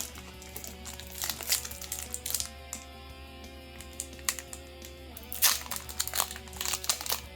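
Pokémon booster pack wrappers from a new expansion are torn open and crinkled in sharp bursts of foil crackling close by, with quieter handling in between and faint background music.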